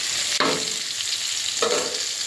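Onion goes into hot oil for a green chilli chicken curry, a loud, close, continuous sizzle with two sharp stirring scrapes, and no one speaking.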